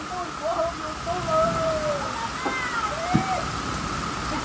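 Heavy rain hisses steadily over a muddy hillside work site where a truck is being loaded, a constant wash of noise with voices speaking through it.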